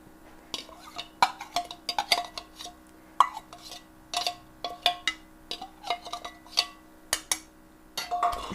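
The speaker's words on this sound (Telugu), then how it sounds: "ఇవి దంచుకోవాలండి కొంచెము మెదిగేదాకా." Green chillies being pounded in a mortar for a tomato and sesame chutney, a steady run of sharp, close knocks and clinks repeating roughly every half second, with no voices.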